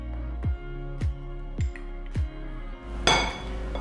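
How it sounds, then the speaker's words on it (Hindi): A spoon clinks against a bowl while baking powder is mixed into flour (maida) for vanilla cupcake batter: four evenly spaced, bright taps, then a short rustling scrape. No one speaks. "मैदे के अंदर पहले मिक्स कर देते हैं बेकिंग पाउडर"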